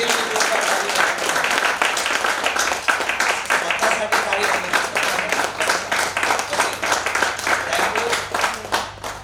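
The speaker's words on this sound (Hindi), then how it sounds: "उसके लिए जोरदार ताली" Loud, sustained applause fills the room at an anniversary celebration, many hands clapping densely and continuously throughout.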